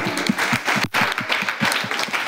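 Boys applauding together at a school Teachers Day celebration, a close, dense burst of clapping in a busy room with a momentary dip midway before the clapping resumes.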